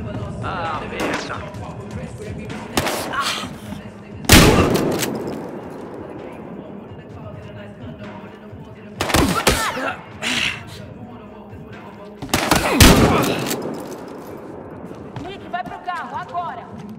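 Bursts of gunfire ring out in Battlefield Hardline, several sharp loud shots clustered in short volleys between quieter stretches, mixed with shouted speech.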